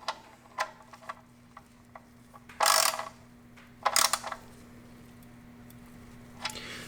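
A ratchet tightens the oil drain plug on a 2019-or-newer Toyota RAV4 with a few faint ticks, then two louder, brief ratcheting bursts and a last short click, all close by and quiet, with no voices.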